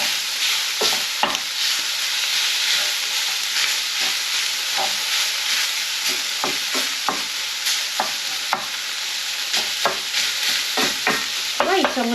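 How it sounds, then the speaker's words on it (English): Shakshuka base sizzles and fries steadily in a pan while a utensil stirs and scrapes through it, giving repeated sharp clacks over the continuous hiss, close up with no talking. "Keep breaking it up every time you give it a little bit of a stir."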